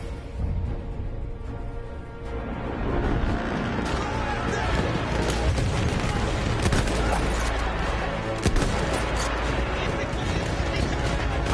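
Rapid gunfire in a PS5 video game, with dense bursts of shots over game noise and people talking throughout.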